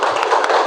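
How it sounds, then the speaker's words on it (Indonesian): A classroom of students claps their hands together, a brief dense burst of close clapping. "Oke, tepuk tangan."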